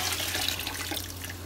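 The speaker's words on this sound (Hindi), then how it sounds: "यखनी ऐड करेंगे।" Yakhni broth poured into a pot of pulao, a steady liquid rush with a continuous splashing hiss, close and moderately loud, with no talk.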